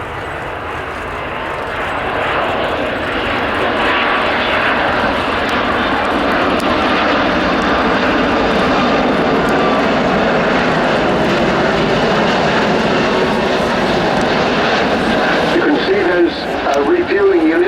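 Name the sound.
RAF Airbus Voyager A330 Rolls-Royce jet engines at full power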